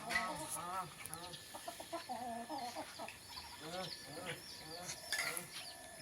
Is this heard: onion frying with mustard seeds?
no